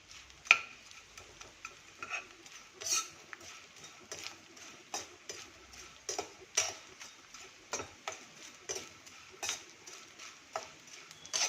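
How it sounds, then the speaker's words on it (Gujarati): Edible gum (gond) roasting in a pan, heard as soft, irregular ticks and light scraping clicks from stirring, faint and close, with no one talking. "આપણો ગુંદ બધો આવી રીતે આપણે શેકી લેશું."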